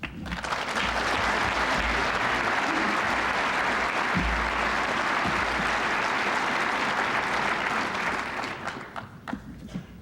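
A conference audience at the SOA gathering gives John Nesbitt a welcoming round of applause; loud, dense clapping fills a large hall for about eight seconds, then thins into a few scattered claps as it dies away.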